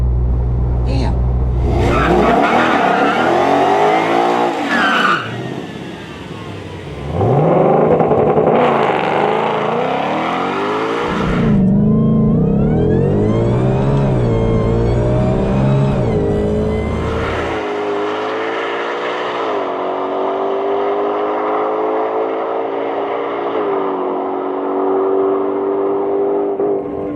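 Ford Bronco on a drag strip accelerating hard, a loud engine roar climbing through repeated rising gear sweeps with shifts, then fading into a steady distant whine, with voices in the background.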